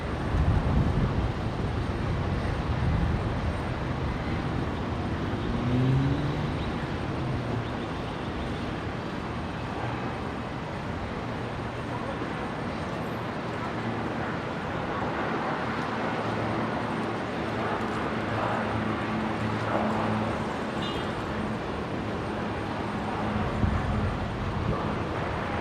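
A Qantas airliner takes off from runway 19 right at Brisbane airport, a steady, broad engine roar holding loud and even for the whole stretch.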